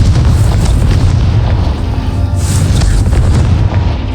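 A Confringo fire spell blasting in the video game Hogwarts Legacy: a loud, continuous booming rumble with dense low-end roar and crackling bursts, sustained throughout without any speech.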